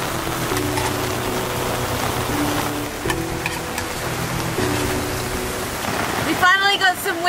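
Rain from a squall pours down around a sailboat at sea under cloudy, overcast skies in the Solomon Islands, a dense steady hiss with low rumbling wind noise beneath, ending in a burst of louder splashing and flapping.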